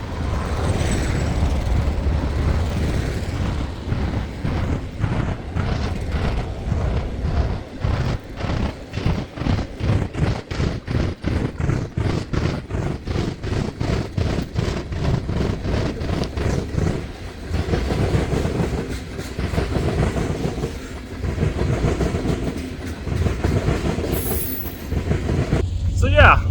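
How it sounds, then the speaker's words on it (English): A train rolls past close by, a loud continuous rumble with a rapid clickety-clack of wheels over the rails that eases off near the end. "there's a train coming now. Getting closer, it's going to get even louder."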